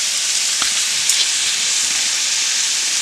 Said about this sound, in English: just a little bit of butter in the pan. And we're going to let those cook off.